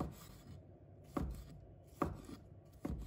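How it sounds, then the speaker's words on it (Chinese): A knife chops a tomato into small pieces on a board: four distinct, evenly spaced thuds, close and fairly quiet, with faint rustling in between. "再把它切成小块，我们也不要切得太小，切成这样的就可以了。"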